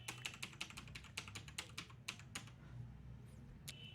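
Quick, crisp keystrokes on a computer keyboard as an Aadhaar number is entered into an online form, a rapid run of clicks that slows and ends in a final tap, quiet and close.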